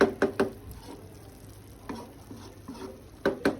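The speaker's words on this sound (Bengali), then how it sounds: "এবার একটু নেড়ে দিই, প্রায় হয়ে আসছে।" Food cooking in a pan is stirred with a utensil, producing clustered scraping clicks and knocks over a soft, low sizzle.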